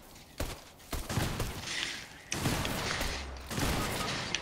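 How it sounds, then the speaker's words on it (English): Gunfire from the video game Fortnite: several bursts of shots break out in quick succession, moderately loud and fairly close, over a busy game soundscape with no talking. "There's somebody shooting at us."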